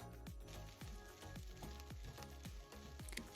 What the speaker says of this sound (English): add your washed and drained rice. Saute it for a few minutes until the greens just begin to take on a little color